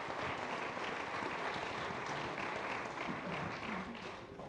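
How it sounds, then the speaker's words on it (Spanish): A church congregation applauding during a sermon, dense continuous clapping from many hands that stays steady throughout and fades slightly at the end, with no talk over it. "Denle un aplauso al Señor"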